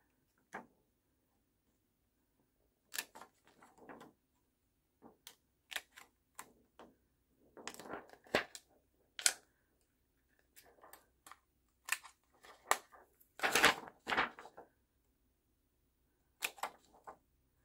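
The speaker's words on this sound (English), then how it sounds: "So I'm gonna cut each side." Scissors snip along each side of a handmade greeting card at a quiet craft table, with sparse, crisp clicks and crunches coming in irregular bursts and pauses.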